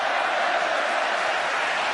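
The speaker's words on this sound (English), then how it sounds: "Fans trying to cheer The Undertaker." A wrestling arena crowd cheers steadily for The Undertaker during his match against Roman Reigns, a dense, continuous roar of fans with no single voice standing out.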